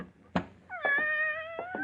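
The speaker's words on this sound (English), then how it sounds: "Philip, you didn't tell me you had a cat" A tortoiseshell cat in a radio drama gives a clear, drawn-out meow close to the microphone, with a few soft thumps before and after it.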